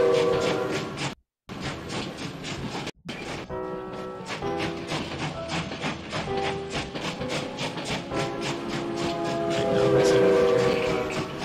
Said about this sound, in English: And now I'm gonna go to area one. I'm gonna start the train.